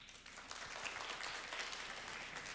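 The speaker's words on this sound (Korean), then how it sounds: "좋은 토론 보여준 공감팀과 한토막팀에게 많은 박수 부탁드립니다." Sustained applause from a crowd at a university debate competition final, steady and fairly loud throughout with dense clapping and no pauses.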